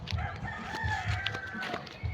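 Chickens cluck and call nearby, several short squawks and a drawn-out crow-like cry over a low background murmur.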